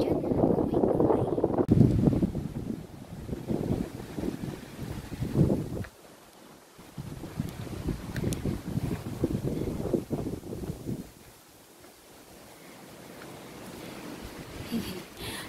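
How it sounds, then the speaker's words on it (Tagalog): Strong wind buffets the microphone on a dark night hiking trail along the MacLehose Trail, a loud rushing roar that rises and falls in gusts, with a person talking over it at times. "Ang lakas ng hangin."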